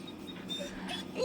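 A German shepherd puppy gives a brief, soft whimper up close in a quiet room.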